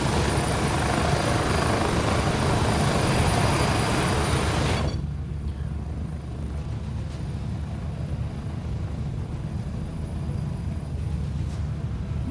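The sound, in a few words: helicopter flying in the video game Gray Zone Warfare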